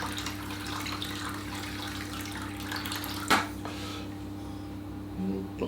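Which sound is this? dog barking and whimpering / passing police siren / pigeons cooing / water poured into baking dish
water poured into baking dish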